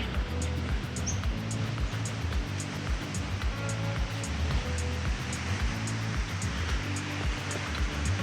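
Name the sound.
water flowing at Lesmurdie Falls waterfall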